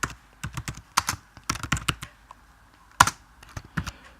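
Code being typed on a computer keyboard in a C++ session, with fast irregular bursts of crisp close key clicks separated by short pauses and no voices.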